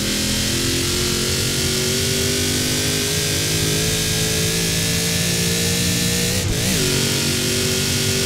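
An upgraded car engine in Forza Horizon 4 revs loudly and continuously at high pitch, holding a strained tone with a brief shift near the end.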